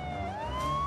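A vehicle hooter siren wails with an electronic sweep, rising steadily, loud and close on a street in Kanpur, India, with no voices and a low rumble beneath.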